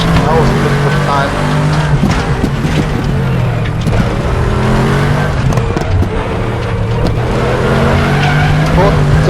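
Race cars in the RaceRoom sim, an AMG and a GT-R, roaring steadily through twisty hill-climb corners with repeated tire squeals and skids, loud and continuous under a voice.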